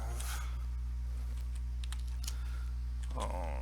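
Someone types on a computer keyboard, producing a handful of scattered, fairly close keystrokes over a steady low electrical hum, with a brief voice at the start and the end.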